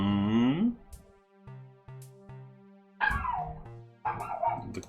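A pet dog named Abby barks in a home setting, a burst of loud barks opening the clip, then a pause with quieter sounds, then two more sharp bark bursts near the end.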